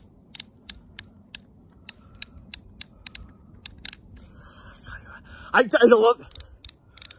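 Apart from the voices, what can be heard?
Ruger .22 Single Six revolver mechanism clicking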